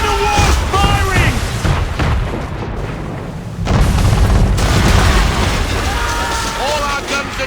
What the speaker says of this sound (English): Men of war firing!